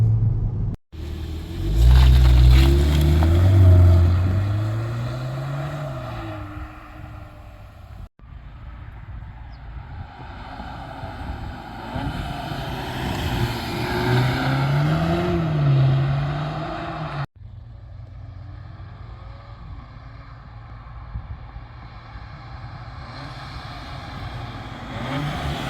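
A Volkswagen Polo GTI with a 2-litre engine drives a twisty forest road in Holland, its engine droning and swelling steadily as it accelerates and eases off, with tyre and road rumble throughout and no talk.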